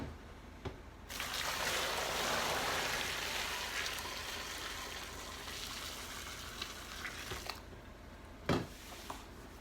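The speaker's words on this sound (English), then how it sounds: "I'm getting ready to pour the boiling water over top of them." Boiling water poured over frozen tomatoes in a plugged sink: a sustained rushing splash and sizzle for several seconds that gradually tapers into trickling, ending with a couple of sharp knocks.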